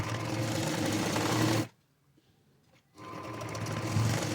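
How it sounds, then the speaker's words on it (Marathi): A sewing machine stitches a princess-cut blouse, running in a loud, steady close hum, stopping for about a second, then starting up again. "हे बघा, एक दाब शिलाई टाकून देते ह्याच्यात."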